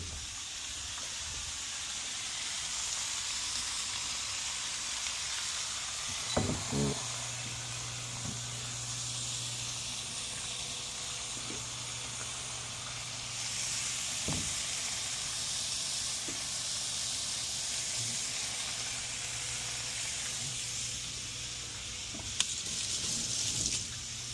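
A steak sizzles in an Our Place Titanium Always Pan Pro, a steady bright hiss running throughout with a few faint clicks and clatters near the pan.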